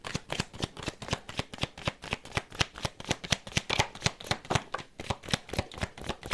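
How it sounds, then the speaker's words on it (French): Tarot cards shuffled before drawing seven for a reading, a rapid series of crisp riffling snaps at a steady rhythm, close and fairly quiet, with no talk. "Je vais tirer 7 cartes."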